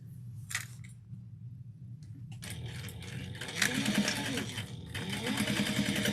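Sewing machine stitching a reinforcing seam along the bottom of a fabric tote bag, a steady mechanical whir that starts after a quiet stretch with a few small clicks and runs continuously, fairly close.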